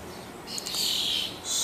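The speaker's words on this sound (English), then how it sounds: "yeah, ton of birds." Blackbirds and sparrows chirp and call around a backyard feeding spot, a cluster of bright, overlapping tweets at moderate distance, with no talking.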